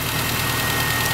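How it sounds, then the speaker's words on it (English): A warming R53 Mini Cooper S John Cooper Works engine idles up close from the open engine bay, a steady mechanical rumble carrying a light, rapid tapping from the head before oil has circulated. "Bit of tapping. You hear that tapping?"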